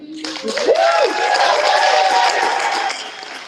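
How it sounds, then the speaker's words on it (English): An awards reception crowd practises its cheering, breaking into clapping with whoops and hoots rising over it, a loud, lively burst lasting about three seconds before fading. "So could we practice clapping and hooting and hollering that we're gonna do when I hand out these awards?"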